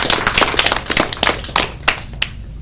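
Applause from a school audience for a guest speaker on bullying breaks out as quick, dense clapping, loud at first and thinning out to a few last claps within a few seconds.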